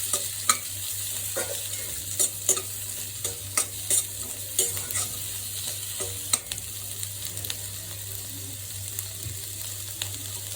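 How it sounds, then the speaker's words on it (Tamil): Capsicum and onion sautéing in a pan for a paneer dish, a soft steady sizzle with repeated sharp clicks and scrapes of stirring. "அது குடமிளகா ஒரு வெங்காயம் நல்லா வதக்கணும்"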